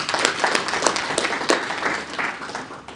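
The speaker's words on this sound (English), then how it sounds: "I think for that we deserve a round of applause." A conference audience applauds, dense clapping from many hands that gradually tapers off over a few seconds.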